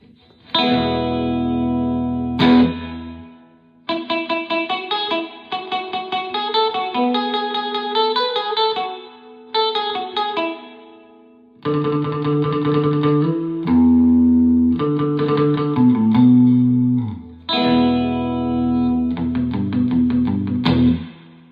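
Electric guitar played through a Surfy Industries SurfyBear Compact reverb pedal with dwell set low at 9 o'clock, giving chords and single-note phrases a light, fairly dry spring reverb in several loud bursts separated by short pauses.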